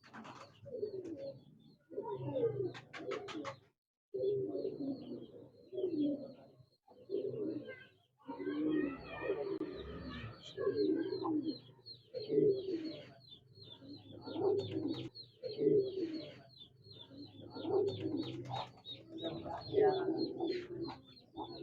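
Repeated low cooing calls from pigeons in steady rhythmic bursts, fairly close, with a brief higher chirp and some faint background noise.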